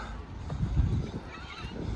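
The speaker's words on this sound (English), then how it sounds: "Get the geese." Geese honking near a canal, a few faint, distant calls over a low outdoor rumble.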